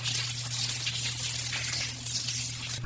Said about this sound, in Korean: 자, 이제 샤워기 한번 틀어볼까요? 수압이 세지 않게 해주는 게 가장 관건이고요.